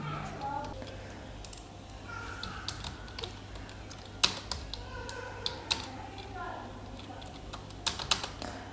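Keys clack on a computer keyboard as C code is typed, scattered irregular taps with a few sharper strikes, close and fairly quiet over a low steady hum, with faint voices in the background.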